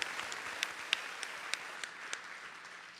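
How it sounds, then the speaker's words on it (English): Faint, distant audience applause at a birthday concert during an evening Maha Rudra Yaga program for Shri Swami-ji: a steady wash of clapping with a few sharper individual claps standing out, heard alone for about three seconds. "a round of applause"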